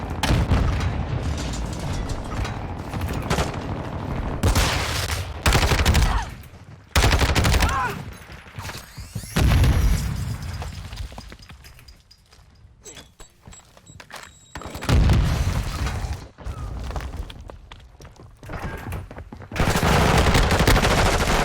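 Hip-fired gunfire in Call of Duty MWII Search and Destroy, loud bursts of rapid automatic shots and booms in clusters separated by brief quieter gaps, with no talking over them.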